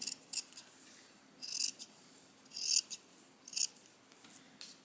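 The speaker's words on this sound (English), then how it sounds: "So conveniently this is on a line, so I can just cut along here nicely." Scissors snip through fabric along a marked line for a sewing project, in several short, crisp bursts of cutting separated by quiet pauses, close and fairly soft.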